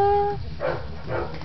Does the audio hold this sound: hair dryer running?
no